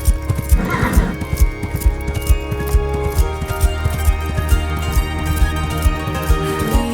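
A horse whinnies loudly at the start while its hooves keep up a steady, close clip-clop rhythm throughout, with no talking over the sounds.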